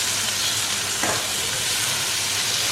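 Onions and tomatoes sizzle in a cast iron pan for egg drop curry, a steady close hiss of frying with a brief stir or scrape partway through and no talking.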